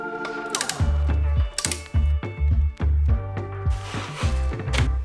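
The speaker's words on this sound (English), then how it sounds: "set your torque wrench to 8 Newton meters and tighten it on both" A ratcheting torque wrench tightens crash protection bolts on a Yamaha MT-07 motorcycle, giving loud close bursts of rapid clicks that repeat with short pauses between strokes.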